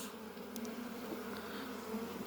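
Honey bees hum faintly at an opened hive after being smoked down into the frames, a soft, steady buzzing drone that carries on evenly with no voices.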